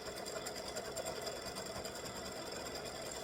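A sewing machine stitches free-standing lace bunny peeps earrings, running in a steady, fast mechanical whir that stays constant and moderately quiet for a few seconds.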